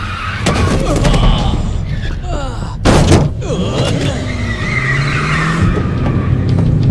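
Cars speed and skid during a gangster movie chase, tires squealing in repeated sharp bursts over loud roaring engines, with a sudden crash-like burst near the middle and shouting voices mixed in.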